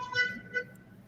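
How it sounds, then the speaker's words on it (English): A car horn honks in two short toots, the first longer and louder, the second brief, set against a low background rumble with no voices. "honk that horn"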